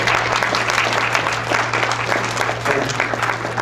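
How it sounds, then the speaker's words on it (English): Guests at a 90th birthday party applaud together, a dense, sustained clapping from a room full of people with a faint hum running underneath. "Really clap for that."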